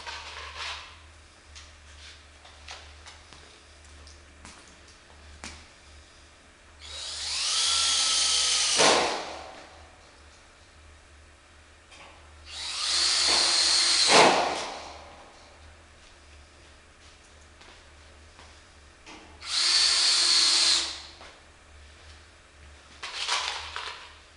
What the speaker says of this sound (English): And attach it with the screws.